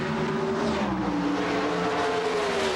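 NHRA Pro Stock drag cars launch side by side in a 1991 final round, a loud continuous engine roar with rising, shifting pitch as they accelerate down the strip.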